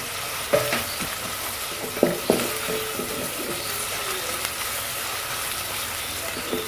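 Onions frying over medium heat in a pan, stirred with a spoon, a steady close sizzle with a few scraping clinks of the spoon against the pan near the start.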